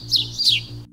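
Two quick, high chirping bird calls, each a short downward sweep, clear and close within about a second.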